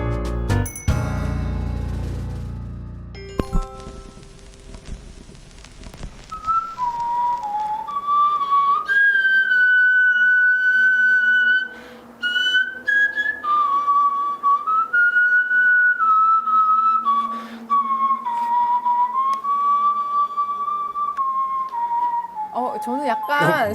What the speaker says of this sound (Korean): 지금 들으신 게 최초의 악기로 이야기되는 디브의 밥의 플루트 소리라고 해요